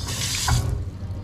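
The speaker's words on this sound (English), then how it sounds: "Taps." Water runs from a tap into a bathroom sink in a clean, new hotel room, a close, steady splashing stream that cuts off halfway through and leaves a quiet room tone.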